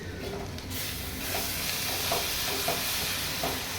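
Green chilies and chickpea masala fry in oil, a steady, close sizzle with a few soft stirring scrapes and no talking.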